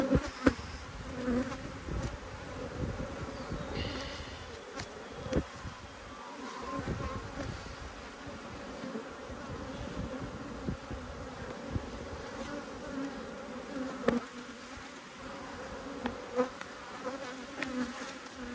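Honey bees swarm and buzz around an open hive during beekeeping, a dense steady drone of many wings close by, with individual bees zipping past the ear now and then.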